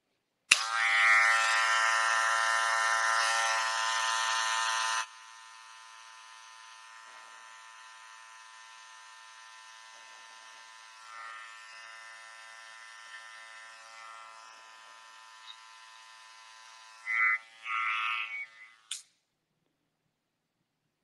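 Electric hair clippers buzz close by while cutting a men's skin fade, loud for the first five seconds, then a quieter steady hum with brief bursts and fluctuations as the blade moves through hair near the end.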